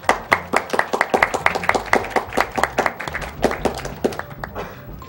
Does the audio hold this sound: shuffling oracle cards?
no